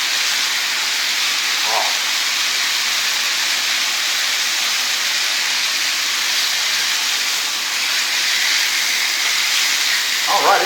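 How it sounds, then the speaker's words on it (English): Venison searing in a hot pan gives off a steady, loud hiss of sizzling that holds evenly throughout, with a brief spoken exclamation partway in. "We're just searing browning the outside of it."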